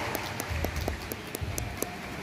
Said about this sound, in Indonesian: Mari kita beri tepuk tangan untuk hadirnya tiga maskot Oriental Sirkus Indonesia.